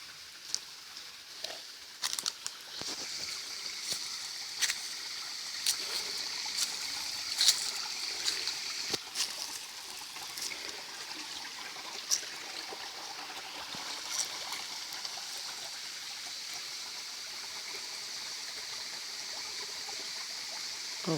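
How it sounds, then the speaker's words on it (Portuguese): A small stream runs over rocks at the Serrinha waterfall in Carmo do Cajuru, trickling and splashing at close range, with soft irregular patters and drips above a gentle continuous flow, fairly quiet throughout. "A água desce por entre, vem descendo do alto por entre as pedras."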